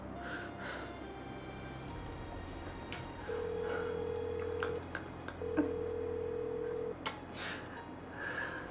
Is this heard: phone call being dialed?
yes